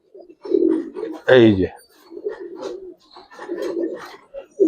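Giribaz pigeons just released give a brief, loud burst of cooing in the middle, with someone talking nearby before and after it.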